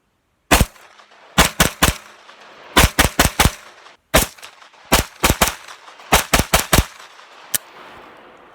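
FM9 and SIG MPX 9mm carbines fire outdoors in sharp, loud bursts of two to five rapid shots separated by pauses, each crack ringing briefly, ending with one lone shot.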